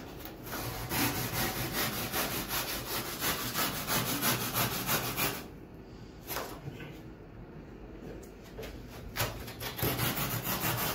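Abrasive rasps back and forth across a surfboard blank in steady, close strokes, pausing briefly midway before the rhythmic scraping resumes.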